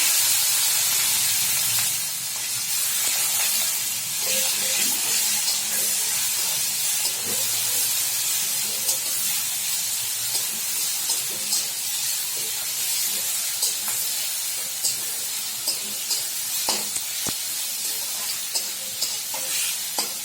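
Chopped onion and two bay leaves fry in hot oil as the base for a yogurt prawn curry, giving a loud, steady sizzle and hiss close by, with intermittent scraping stirring clicks and no talking.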